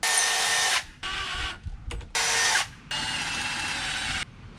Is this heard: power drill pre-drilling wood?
yes